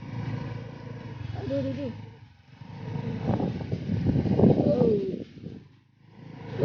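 A motorcycle engine rumbles steadily at close range, rising and falling as it rides over sandy, potholed, wet ground along a beach, with a brief spoken exclamation partway through.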